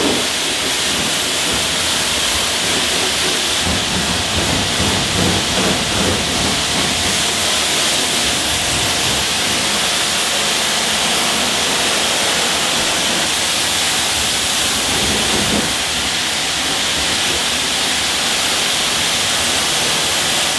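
Steady, loud spray of water rinsing a Mercedes GLE 63S during a winter wash, a continuous broadband hiss that fills the whole stretch without pause and with no talking.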